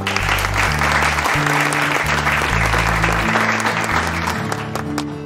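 A classroom audience of students applauds classmates about to perform, with dense, loud clapping that carries steadily throughout and a sustained low musical tone underneath.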